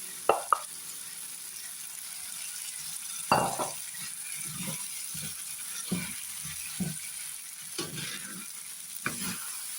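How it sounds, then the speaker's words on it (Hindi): Dry chickpeas stirred and roasted in a pot with no water, giving sparse scraping and rattling strokes with a few sharper knocks, close by and fairly quiet between strokes. "अब चनों की अच्छी तरह बुनाई होगी।"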